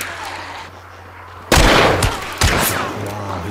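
Two loud, sharp gunshots from a headshot attempt in the PS5 game Dragula ring out about a second apart, each with a brief echoing tail over a low background hum.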